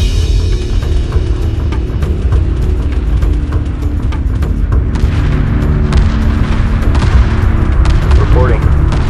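Spaceship weapons fire in the space strategy game Homeworld 2, with a dense, continuous barrage of booming blasts and rumbling explosions and scattered sharp zaps throughout, loud and unbroken with no pauses.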